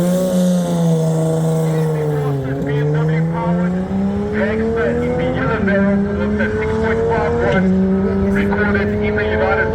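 The turbocharged Turbo Smart Ford Raptor roars at full throttle at Tarlton International Raceway, its engine note climbing steadily and dipping at each gear change across several shifts, loud and close throughout.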